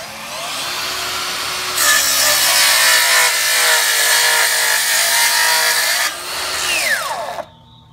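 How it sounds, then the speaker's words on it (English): A Festool HKC circular saw set to a 45 degree bevel cuts through wood: the motor spins up, then a loud, close, continuous cutting whine runs for several seconds, briefly dips, and ends as the blade winds down. "I have the saw set here at 45 degrees"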